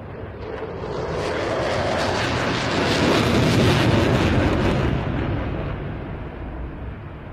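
A Typhoon fighter jet roars past at an air display, a broad loud rumble swelling over several seconds and slowly fading as it turns away.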